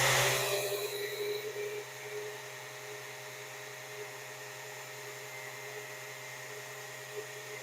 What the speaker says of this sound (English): I'm just going to take my sander and take a little off.